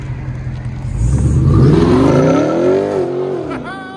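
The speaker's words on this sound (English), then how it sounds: "Dodge Charger Scat Pack Hemi." A 2021 Dodge Charger Scat Pack with a Hemi V8, finished in Army Green, rumbles up and then climbs in a loud, close rev that sweeps upward and falls back as it passes.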